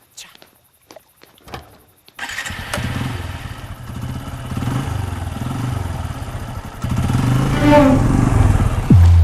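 A motorcycle engine idles and runs close by after a few sharp clicks, a steady rumbling drone that grows louder near the end, with voices talking over it.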